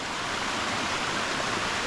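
Steady rushing roar of a waterfall on a hillside burn near Loch Eck, a broad continuous wash of water noise heard up close with no other sounds.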